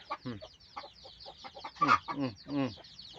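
Thai native chickens cluck nearby in a busy series of short, throaty calls, one louder squawk rising in the middle.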